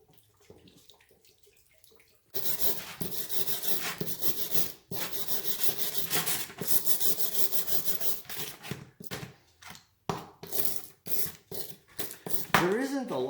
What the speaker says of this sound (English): Just going to dump a little bit over the part, scrub it a little bit